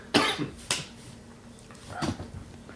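A few sharp, close coughs from a man, about three bursts spaced out over a couple of seconds in a quiet room.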